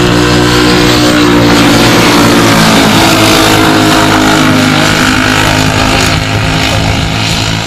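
206 Cup race cars launching in a drag race, with loud, continuous engine roar and revving that stays strong and steady throughout, close by.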